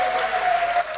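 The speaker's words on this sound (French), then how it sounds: "on l'applaudit s'il vous plaît" A crowd claps steadily and densely for a full second, the applause sustained and fairly loud with no pause.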